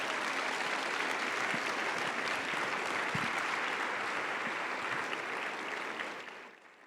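A church congregation applauds during a Sunday sermon, a dense, even wash of clapping that holds steady for about six seconds, then fades out near the end.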